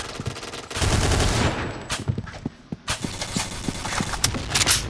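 Rapid bursts from a scoped MP7 submachine gun in the shooter game Point Blank, on a warship level: a steady rattle of shots, then a short lull and more clipped single shots and quick volleys, loud and close.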